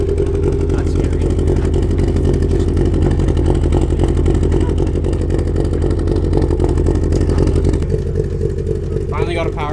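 A small vehicle's engine revs hard and rough in a shop, a loud throbbing, clattering roar held steadily before easing near the end, with voices faintly underneath.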